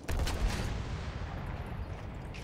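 A giant artillery gun fires in the Battlefield 1 video game, a loud close boom that rolls into a dense, rumbling wash of battlefield noise lasting a couple of seconds, with no voices.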